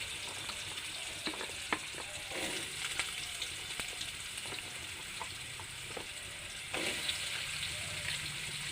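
Cut potatoes frying in a pan with chillies, a steady close sizzle broken by scattered clicks and scrapes of stirring throughout, no voices.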